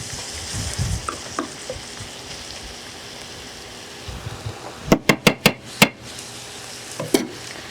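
Zucchini noodles tossed with basil pesto in a pan sizzle softly, with scraping stirs, then a quick run of sharp utensil knocks against the pan and one more a moment later.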